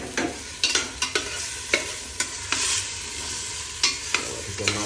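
Coriander and cumin powder sautéed in a pan, a spoon scraping and knocking in repeated strokes over a constant close sizzle.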